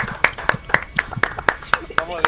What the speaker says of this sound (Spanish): Un aplauso por el piloto,